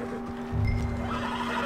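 A horse in the video game Red Dead Redemption 2 lets out a loud, close whinny over steady background game ambience, with a low snort-like rumble in the middle.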